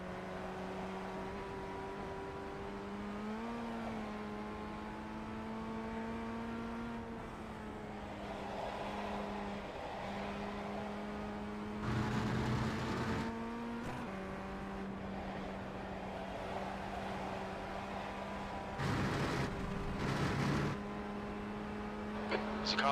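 Race cars in the iRacing sim hum steadily with sustained engine tones, occasional bursts as cars pass close by, under a continuous drone of the player's own engine.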